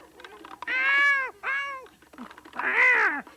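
A cat meows repeatedly while being force-fed: three loud, strained, wavering cries heard close up, with short pauses between them.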